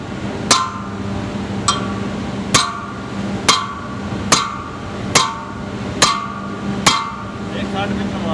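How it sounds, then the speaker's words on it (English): Repeated hammer blows on an industrial air slide fan during repair, eight sharp metallic strikes at an irregular, roughly steady pace over a constant background hum, fairly close. "Now it is rotating, because we made some hammering over here."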